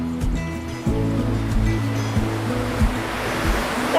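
Mingo Falls in the Smoky Mountains roars as a steady, broadband rush of falling water, loud and continuous, with low rumbling undertones.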